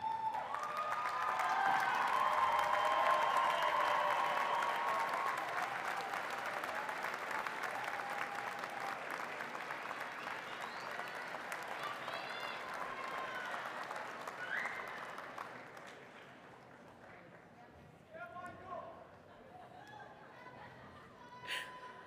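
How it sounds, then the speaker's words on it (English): Graduates at a university commencement ceremony applaud their loved ones, a broad sustained wash of clapping from a large crowd in a big hall that slowly thins out, with scattered voices and cheers at the end. "let's give them a round of applause to show our appreciation"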